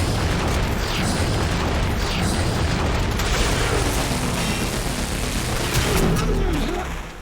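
A fully modded Gaze beam weapon fires continuously in the Warframe video game, making a dense, loud roar of blasts and bursts that runs steadily for about seven seconds before tailing off slightly at the end.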